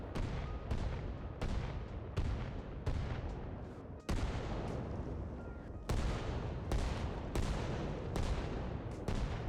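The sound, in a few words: mortar barrage in the video game Arma Reforger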